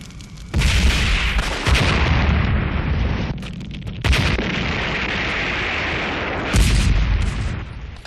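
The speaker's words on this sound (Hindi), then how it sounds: "उन्हें कवरिंग फायर दो।" Covering gunfire in a battle scene, long dense bursts of rapid shooting with heavy booming blasts, loud and close, pausing briefly between volleys.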